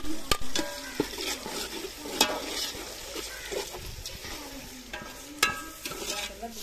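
Browned onions sizzle in a pan as masala is added and stirred in. Steady frying hiss comes close up, with occasional scraping clinks from the stirring and no talk.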